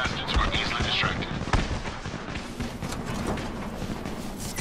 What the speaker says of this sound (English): You still have some firecrackers, don't you? Just throw some into the crowd.